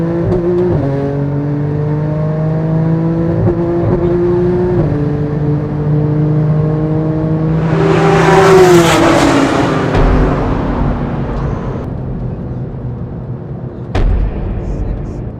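A Porsche 911 Turbo S accelerates hard in a race against tuner cars, its engine note climbing through several gear shifts before a loud rushing surge as it sweeps past, then fading.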